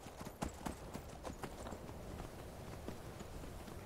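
A horse's hooves clip-clop across snowy ground in Skyrim, several sharp, distinct strikes early on that settle into a quieter, steadier trot.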